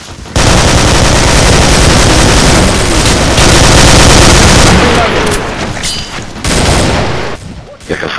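Loud, sustained volley of automatic gunfire rattles almost nonstop from the video game Commando, a dense barrage with brief dips and a short lull near the end.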